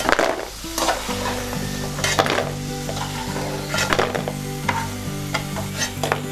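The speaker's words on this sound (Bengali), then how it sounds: "এবার বাকি ধোকাগুলো আমি এর মধ্যে দিয়ে সেগুলোও ভেজে নিচ্ছি।" Dhoka, Bengali lentil cakes, fry in hot oil with a steady sizzle, while a spatula repeatedly clinks and scrapes against the pan; no voices, with a faint steady tone beneath.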